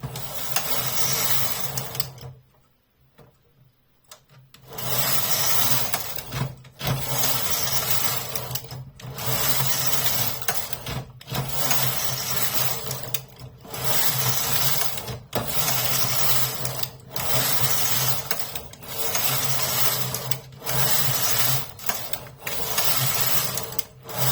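A Zippy Plus knitting machine carriage knits fair isle, with repeated rasping, whirring passes back and forth separated by short pauses, including one longer quiet gap early on.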